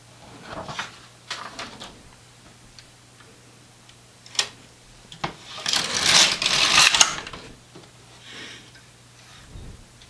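A knitting machine carriage slides across a row, giving a rattling, clicking run that swells to a brief loud whir, with scattered ticks and knocks before and after.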